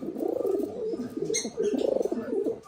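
A brooding female pigeon sitting on her nest with a newly hatched chick coos in a steady, repeated 'hoo-oo' pattern, close and clear, with faint chirps in the background.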